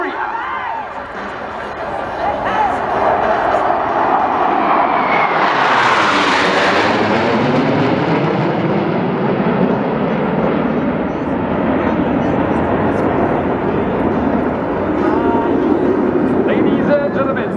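Black Eagles aerobatic team jets fly a display at an air show, their engine roar swelling into a loud pass and then a sustained rumble, with a public-address announcer's voice heard over the noise.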